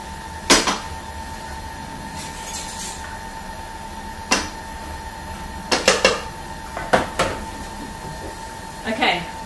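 A spatula scrapes around a Thermomix bowl in several short, sharp knocks and scrapes spaced irregularly, over a steady electrical hum.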